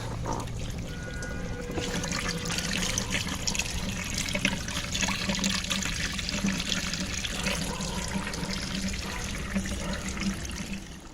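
Water pours steadily into a pot of soil for several seconds with a continuous splashing gush, close by, with no voices.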